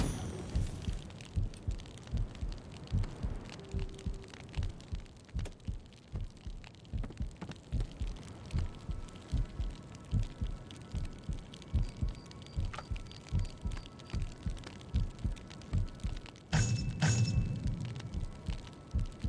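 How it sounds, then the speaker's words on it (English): Steady lub-dub heartbeat of a starving character in a video game, a long run of regular low thumps at moderate volume over faint game ambience, with a brief brighter burst near the end and no speech. "You can hear my heartbeat."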